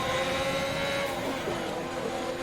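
A racing video game on the Singapore street circuit, with a McLaren car engine running steadily at high revs, tyres locking up under braking, and a constant loud mechanical drone with no break.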